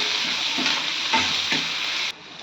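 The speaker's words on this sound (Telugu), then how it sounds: "బాగా ఫ్రై చేసుకోవాలి" Chopped onions with salt fry in a hot pan, a steady loud sizzle with a few soft stirring scrapes, close and continuous before cutting off abruptly near the end.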